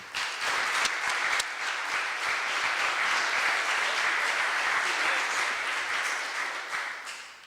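A forum audience applauds to welcome Representative Bob Inglis to a business ethics event, with sustained, dense clapping from many hands that holds steady throughout and tapers slightly at the close.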